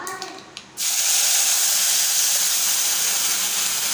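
Tomato puree poured into hot oil in a pan on low flame hits with a sudden loud, steady sizzling hiss that stays strong and continuous after a brief quieter moment.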